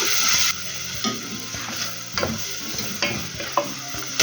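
Chopped onion and garlic sizzle steadily in hot oil in a pan, with a broad hiss and repeated scraping stirs, a louder burst at the start and occasional clinks from the utensil.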